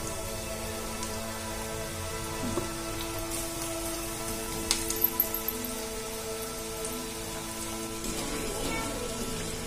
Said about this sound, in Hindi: एक एक करके हम आलू को डालेंगे इसमें और इनको गोल्डन फ्राई होने तक पकाएंगे।